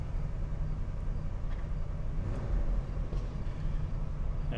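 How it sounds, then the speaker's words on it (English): A cold 1975 Oldsmobile Delta 88 Royale V8 idles fast, heard as a steady, close, deep rumble with a constant low throb and no voices over it. "The motor's cold, so the fast idle will be on here for a little bit."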